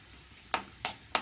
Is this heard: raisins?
yes